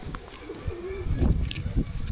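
Pigeons give a short, soft coo against low background rustle, one brief throaty call rising and falling near the middle of the moment.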